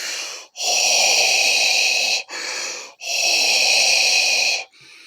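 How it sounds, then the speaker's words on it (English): Loud, close mechanical breathing through Darth Vader's respirator from Star Wars: long hissing inhales and exhales alternating in a slow, steady rhythm. "you can hear the breathing before you even see Vader show up on screen."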